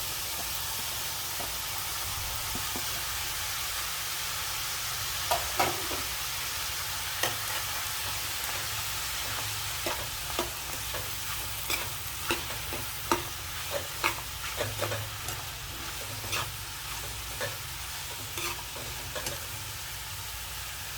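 Cabbage and capsicum stir-frying in a hot pan, a steady close sizzle with scattered sharp clicks and taps of stirring throughout, no voices.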